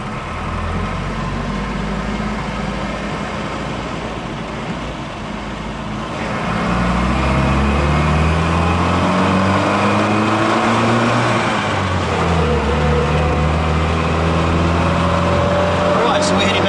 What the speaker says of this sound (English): This is what an old Series Land Rover will actually pull.